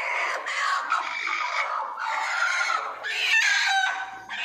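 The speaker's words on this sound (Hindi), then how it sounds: "मुर्गी पकड़ लूंगा अभी मैं" Hens on a poultry farm cluck and squawk continuously close by, their calls overlapping in busy, uneven bursts with no talking.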